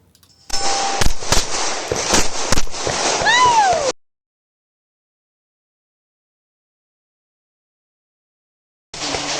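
Rapid sharp pistol gunshots at a USPSA shooting match, several close loud reports in a quick string with clanging echoes, then a long silence before more noise resumes.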